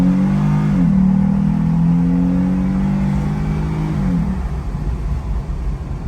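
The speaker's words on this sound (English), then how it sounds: "this is gonna be inside intake test, so you can hear the sound of it." A Jeep Gladiator fitted with an S&B cold air intake revs from inside the cab, a loud sustained engine drone that climbs in pitch, holds, then drops back to a rumbling idle, with no talk.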